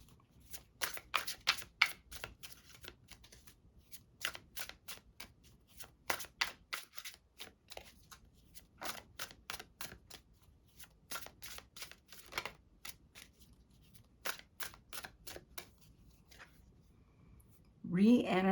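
Soul Helper Oracle cards are shuffled close up in repeated quick riffling bursts with short pauses between them, quiet and crisp, before a voice begins speaking at the very end.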